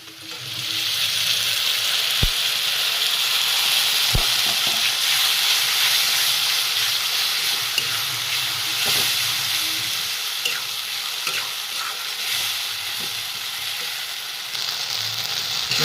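A spice paste of onion, chili, garlic, ginger and ground cumin fries in a hot pan with a loud, continuous sizzle and hiss, broken by occasional sharp pops and stirring clatters.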